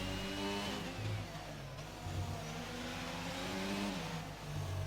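A racing car in a racing video game accelerating hard out of the final sector, engine revving up through gears with rising and falling pitch, loud and continuous with no talking.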